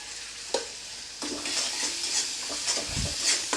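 Spice paste for Bengali aar fish kalia sizzles and fries in a pan while a utensil stirs and scrapes it, with soft scraping bursts over a steady crackling hiss; no talking.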